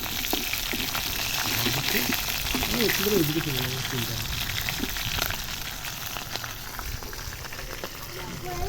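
Rui fish frying in a pan gives a steady, close sizzle that runs throughout, with a voice talking over it partway through.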